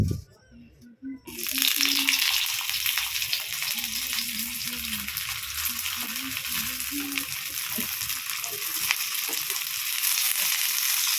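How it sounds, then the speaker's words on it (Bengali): Momos drop into white refined oil on a tawa, a brief quiet moment giving way to a strong steady sizzle and spatter with scattered crackles, while someone talks over the frying. "তাওয়াতেই ভেজে নিচ্ছি, কড়াই আর বের করবো না।"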